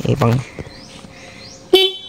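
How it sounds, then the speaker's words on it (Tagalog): After a brief bit of talk, a single short, bright horn toot from a Yamaha Sniper 150 motorcycle sounds up close, ending the clip. "pati rin yung busina niya guys"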